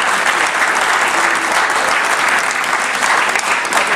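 A church congregation at an evangelical service claps together in a dense, loud, continuous wave of applause, with scattered voices mixed in.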